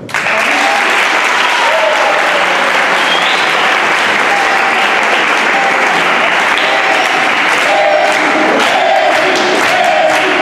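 A school audience applauds at the end of a stage musical performance of The Greatest Showman, with loud, sustained clapping and some crowd noise lasting the whole stretch.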